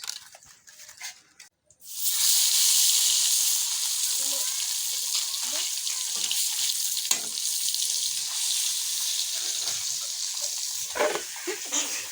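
Fish frying in a pan with turmeric, a loud steady sizzle that bursts in after a quiet start and holds for about ten seconds, with a few faint clinks and stirs.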